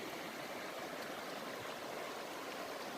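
A river stream flowing on a quiet morning, steady soft broadband rush of water with no distinct splashes, faint and continuous, no one speaking.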